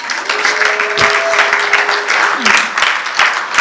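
A church congregation applauds and cheers in praise of the Lord, a steady wash of clapping hands and voices filling the room throughout, with some tonal voices or singing mixed in.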